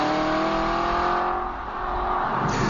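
An Aston Martin V8 Roadster's V8 engine and exhaust roar loudly and continuously, the note dipping briefly then swelling again as the car drives on, with no talk over it.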